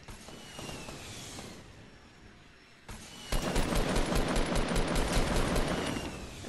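Gunfire in the Fortnite video game, a rapid, sustained rattling burst of automatic fire that swells louder midway through, with mechanical clicks and distant shots before it.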